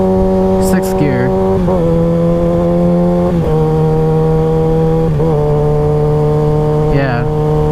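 Steady motorcycle engine drone at highway speed, pitch dipping briefly at several gear changes as the rider shifts up into sixth, close and continuous with wind noise.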